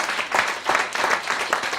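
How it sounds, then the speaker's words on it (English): A brief burst of audience applause at a talk on creatives' online presence, hands clapping in a loose, uneven patter that swells and fades over a couple of seconds. "let's give a round of applause to"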